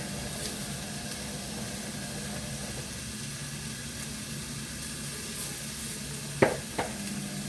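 Steady sizzle of a turkey roast frying in a pan with pepper and salt, stirred at a moderate pace, with a couple of sharper scraping clicks near the end.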